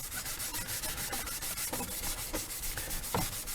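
Cloth scrubs old lacquer off brass anniversary clock parts with acetone, a quick, steady back-and-forth rubbing that stays close and fairly soft, with no one talking.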